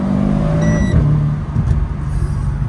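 A Renault Clio 4 RS Trophy drives past, its engine note rising and falling with a short tonal whine early on, then settling into a rougher mid-level rumble; no voices.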